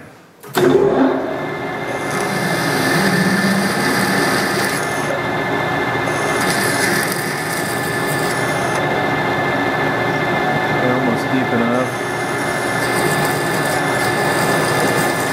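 A drill working a metal part on a lathe, with a steady, loud grinding and whirring hum that starts suddenly and holds for about fifteen seconds with slight shifts in tone.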